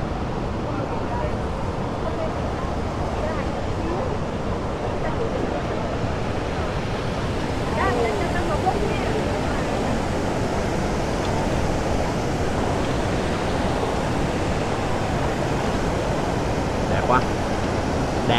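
Ban Gioc waterfall on the Vietnam–China border roars in a dense, unbroken rush of falling water that stays loud and steady throughout, with faint scattered sounds from people nearby.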